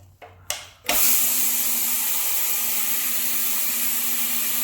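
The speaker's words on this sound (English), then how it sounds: "let's go run our scrubber over it" A floor scrubber machine cleaning tile and grout starts with a couple of short bursts, then runs at a loud, steady whirring drone close by, with no talk.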